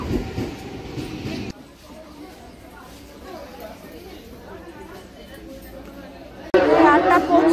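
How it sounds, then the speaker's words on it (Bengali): Rumble and clatter of a train pulling into Bagula station, flanked by loud bursts of crowd chatter at the start and end. "7:58 ট্রেন ঢুকলো বগুলায়।"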